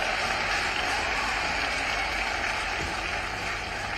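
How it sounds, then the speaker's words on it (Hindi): Applause from the audience at a large tree-planting event in Indore, a steady dense wash of many hands clapping that holds at an even level throughout without a pause. "इसे दोनों आईजी के लिए ताली बजाइए जरा।"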